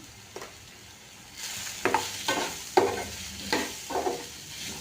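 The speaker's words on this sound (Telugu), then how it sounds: "కలుపుకుంటూ 1 నిమిషం పాటు వేపుకుందాము" Chili and coriander powder frying with pumpkin pieces in a pan, a low sizzle broken by several distinct stirring scrapes about every half second, close and moderately loud.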